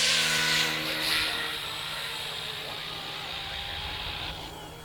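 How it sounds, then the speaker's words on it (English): Small Yu Xiang F07S RC Huey helicopter flying at full speed on low rates, a steady, fairly quiet whine and hiss of the electric rotor and motor that holds level and close throughout. "It's a quiet little helicopter."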